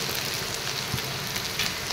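Onions, green chilies and small fish sizzle gently in a pan over low heat, a soft, fairly quiet and steady frying hiss with faint crackles throughout.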